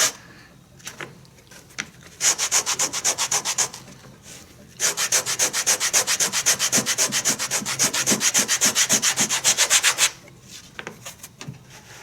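Hand sanding of a shoe sole ahead of contact cementing, quick rhythmic back-and-forth rasping strokes in two close bursts, the second longer, with quiet pauses around them.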